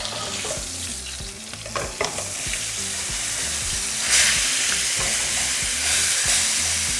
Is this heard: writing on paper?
no